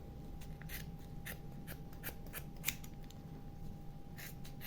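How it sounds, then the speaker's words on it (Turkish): Scissors snip yarn for a pompom with a few quiet, crisp cuts close by, set against a faint steady hum. "ipimi kesiyorum."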